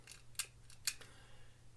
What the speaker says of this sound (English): I could hear a little clicking